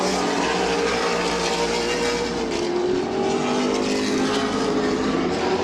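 Race cars lapping at Midvale Speedway produce a continuous loud roar of engines, with several cars droning and shifting pitch as they come through the turns.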